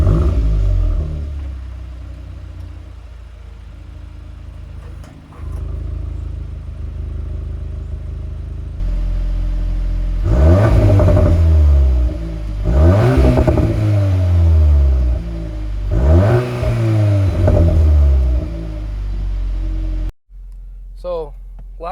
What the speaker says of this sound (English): I'm gonna show some exhaust clips right here as well